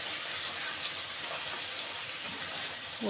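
Continuous close sizzling of chopped tomato and green chillies frying in oil in a pan, an even hiss with a faint clink or stir near the end and no voices.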